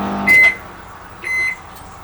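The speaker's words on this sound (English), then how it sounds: "This is an air fryer." Air fryer running in a motorhome on an inverter, heard as two short electronic beeps about a second apart over a quiet low hum, no speech.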